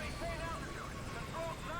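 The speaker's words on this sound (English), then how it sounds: "And there's the chopper." A helicopter in the video game Metal Gear Solid V: Ground Zeroes gives off a steady rotor and engine drone with a wavering, whooshing texture. The sound holds at a moderate level throughout.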